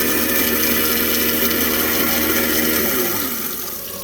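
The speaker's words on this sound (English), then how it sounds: "That's the garbage disposal." A garbage disposal under a kitchen sink runs with a loud, steady grinding whir, then winds down and fades near the end.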